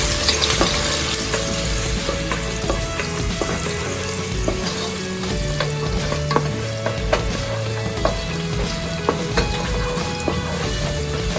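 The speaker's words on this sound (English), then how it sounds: "Next step, to caramelize all of the onions." Onions caramelizing in warm oil, a loud continuous sizzle with frequent stirring scrapes and clatter, close and steady with no voices.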